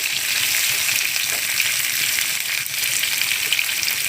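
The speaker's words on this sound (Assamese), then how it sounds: "অকণমান সময় এইখিনি ভাজি ল'ব লাগিব" Vegetables frying in hot oil in a pan for a raw jackfruit dish, a steady dense sizzle holding loud and close with no voices throughout.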